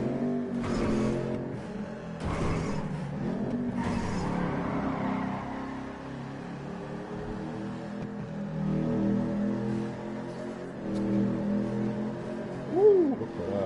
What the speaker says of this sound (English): Listen to the sound of that engine.